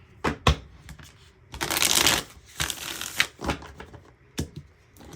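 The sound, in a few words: shuffling tarot cards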